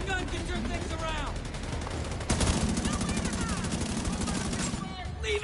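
Rapid automatic gunfire rattles through a firefight in The Division 2, dense bursts that intensify midway and continue under in-game voices calling out.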